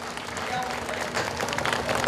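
Applause from an outdoor crowd at a village days celebration honoring local officials, a steady wash of clapping that swells slightly toward the end, with voices mixed in underneath.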